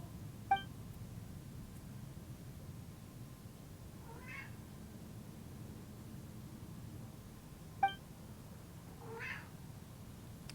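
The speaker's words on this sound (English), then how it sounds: "Sorry, that's my cat." A house cat meows twice, faint and a few seconds apart, over a low steady hum, with two short electronic beeps sounding separately.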